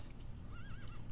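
A horse whinnies in the online riding game Star Stable, a single wavering neigh close and loud over a steady dense background of game ambience.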